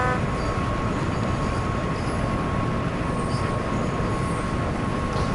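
A locomotive runs steadily in Train Sim World on the Hauptstrecke Rhein-Ruhr, a continuous dense rumble of wheels and engine with a faint steady tone above it. No voices.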